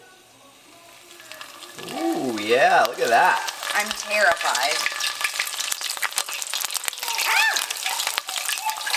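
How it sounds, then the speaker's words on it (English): A cheeseburger spring roll sizzles and crackles in hot oil in a pan, starting quiet and growing into a steady busy fry, while someone speaks briefly over it. "Let's see the sizzle."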